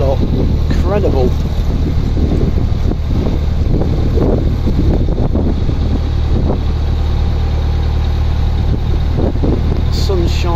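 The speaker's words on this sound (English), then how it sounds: "It's too windy." Strong wind batters the microphone beside a canal, a constant low roar with gusty swells, as someone speaks in short phrases over the buffeting.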